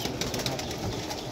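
Pigeons shuffle and flap their wings close by in quick, uneven bursts of fluttering. Soft scuffing and possible faint coos mix in, and no one talks over them.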